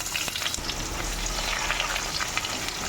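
Onions fry in a pan with bay leaf and a little cumin, a steady, dense sizzle that stays loud and even throughout with faint crackles and no voices.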